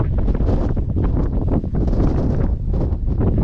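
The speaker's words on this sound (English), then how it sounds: "it's pretty windy up here" Strong wind buffets the microphone on a boat, a loud gusty rumble that surges and dips in uneven bursts with no voices.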